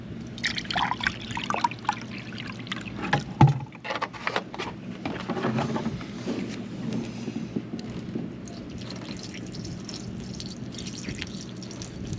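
Bleach trickles and pours into a half-empty water tank aboard a sailboat, a close, steady liquid stream with splashes and drips, loudest early and settling into a continuous gurgle.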